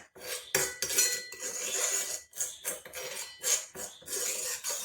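Amla powder and black tea being mixed with a spoon in a bowl, giving a busy run of scraping clinks and taps on the bowl at close range, uneven in rhythm and with no voices.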